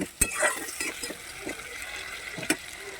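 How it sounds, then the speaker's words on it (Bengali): Spice paste (masala) stir-fried in a pan for a thin sing fish curry, with a low, steady sizzle broken by a few sharp scrapes and clinks of the spatula against the pan. "এবারে এই মশলাটা দিয়ে আমি আবারও একটু কষে নেব খুব সুন্দর করে ভাজা ভাজা করে নেব"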